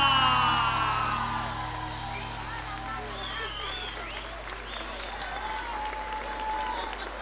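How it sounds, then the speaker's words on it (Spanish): An outdoor concert audience at the Fiesta Nacional de la Soja in Arequito gives sustained applause after a show, loud at first and then slowly easing, with scattered whistles and shouts in the crowd. "Aplauso bien fuerte."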